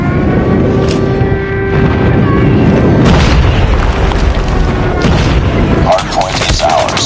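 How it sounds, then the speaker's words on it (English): Loud, heavy booms and rolling blasts of an airstrike in Call of Duty Mobile multiplayer, mixed with bursts of gunfire and dense battle noise, with game voice callouts heard underneath. "Friendly airstrike incoming."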